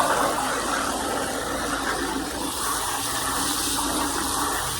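Water rushes and splashes steadily into a bucket being filled to about three gallons, a loud continuous gushing pour with no pauses.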